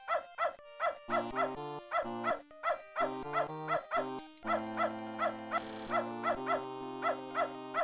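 A dog in the video game Beneath a Steel Sky barks and howls in a steady repeating pattern, clear, tonal, loud and close, with no talking.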